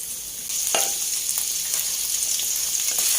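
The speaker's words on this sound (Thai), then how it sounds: "ขาหมูนะคะ เอามาจี่น้ำมันนะคะ มาทอดในน้ำมัน ให้เขาเป็นเกรียมอยากให้เขาเป็นเกรียมนิดนึงค่ะ" Pork leg sizzles in hot lard in a frying pan, a dense, steady close-up crackle with occasional sharper pops and no voices.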